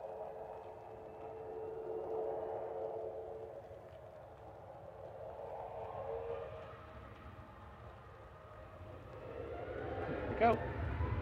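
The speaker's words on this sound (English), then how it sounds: "Departure coming up here, Sun Express heading over to Antalya." Sun Express Boeing 737 MAX 8 jet departing Manchester Airport for Antalya, a distant low roar that swells and fades steadily, with a voice talking faintly underneath.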